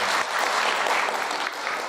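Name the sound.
audience applauding to welcome Sharadkant Soni and team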